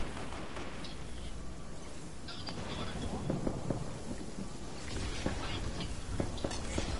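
Storm noise in Fortnite, a dense wash of rain-like hiss with rumbling thunder-like swells and scattered cracks, sustained and fairly loud throughout with no talking.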